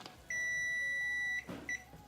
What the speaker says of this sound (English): that's the timer for the spaghetti squash